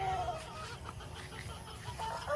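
An Asil gamecock, a Golden Boy cross, clucks close by in short, soft repeated notes over a steady background hum, with no clear talking.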